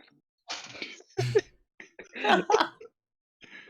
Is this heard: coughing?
yes